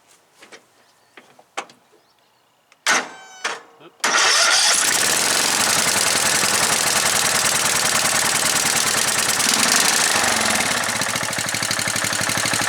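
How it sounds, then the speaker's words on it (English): A few quiet clicks and short pulls, then a riding mower engine with a rebuilt carburetor catches and settles into a steady, loud, chugging low idle. "That's low idle, sounds really good."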